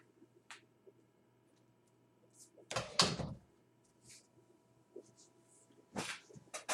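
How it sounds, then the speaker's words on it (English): A door is shut indoors, a soft muffled thud standing out from quiet room tone, with scattered speech and small handling noises around it. "I'm going to shut the door."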